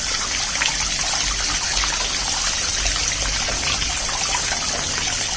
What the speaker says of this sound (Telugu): ఇలా వినాయకుడు బొమ్మ ఉంటే శుభ్రంగా క్లీన్ అవుతుందని ఇలా వాటర్ పడుతుంటే